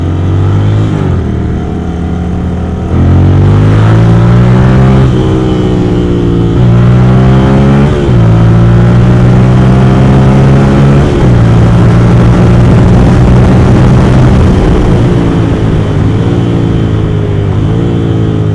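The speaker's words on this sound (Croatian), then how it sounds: "Mnogo mu pomaže ovih njegovih 95 kubika koliko ima i ovo elektronsko blizgavanje, znači motor mu ide ozbiljno dobro." A 95 cc motorcycle engine with electronic fuel injection revs hard on a night ride, pitch climbing through repeated gear pulls and dropping at each shift, loud and close for the whole stretch.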